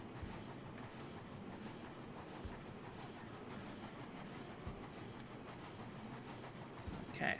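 Steam locomotive engine pistons in the train game Railroads Online, a low, faint continuous rumble with soft rhythmic chugging and occasional dull thumps, ending with a brief brighter clank.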